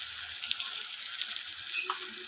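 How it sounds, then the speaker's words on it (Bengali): Spices stir-fried with onion and tomato sizzle in a pan, a soft bright crackle with light scraping of stirring, faint and close, building slightly toward the end. "সমস্ত কিছু মশলা এইভাবে আমি নাড়াচাড়া করে পেঁয়াজ আর টমেটোর সাথে কষিয়ে নেব ভালোভাবে"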